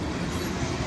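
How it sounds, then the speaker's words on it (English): A BNSF freight train rolls past at close range, a loud, steady rail rumble with a broad hiss that fills the whole short moment. "I got one more train"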